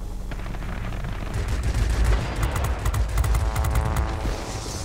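Rapid machine-gun fire from the rear gunner's turret of an SE 100 aircraft in the combat flight game World of Warplanes, loud sustained bursts over a constant engine drone with no talking.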